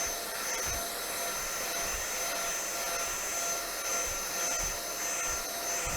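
A BVILY cordless vacuum cleaner with a small brush runs in normal mode, giving a steady, fairly quiet whooshing motor whine throughout with faint soft bumps underneath and no voices.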